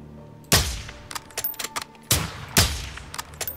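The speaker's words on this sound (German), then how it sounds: "Er hat einen Schuss gehört." Video game gunshots (Call of Duty: Modern Warfare II) crack in quick succession, a few loud blasts mixed with smaller rapid pops, with no talking.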